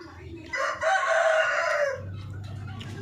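Paraoakan chickens cluck while a rooster crows once, loud and close, in a drawn-out call, followed by low murmuring and soft farmyard background.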